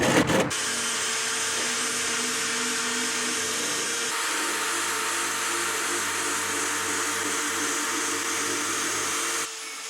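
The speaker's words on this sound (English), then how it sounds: "Then I went at it with a wire brush to knock off most of the surface rust." A power wire brush grinds steadily against a rusty metal wagon, a loud continuous whirring scour that runs unbroken for about nine seconds before cutting off near the end.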